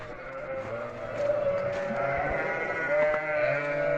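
Sheep bleat repeatedly from a short distance, calling their young, over a soft outdoor village-road background, several calls overlapping.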